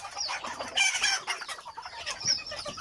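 Thai game-breed chickens, males and females, cluck steadily in a farmyard, several birds close by with overlapping calls and a brief crow-like rise in the middle.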